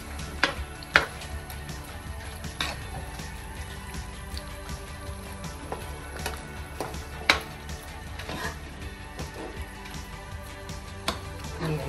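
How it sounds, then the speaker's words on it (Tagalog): Ham and bacon carbonara being stirred in a pan, with irregular soft clinks and scrapes of a utensil against the pan over a low steady background hiss. "Okay, then haluin natin siya."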